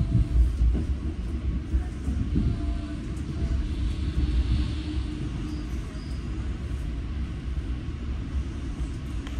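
A New Jersey Transit Northeast Corridor commuter train near Newark rumbles steadily along the rails, with a deep continuous roar and faint rattling throughout, heard from inside the carriage.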